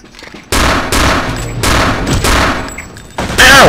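An enemy fires a heavy gun in the shooter Return to Castle Wolfenstein: about five loud, close bursts of rapid gunfire separated by short pauses, with a final burst at the end.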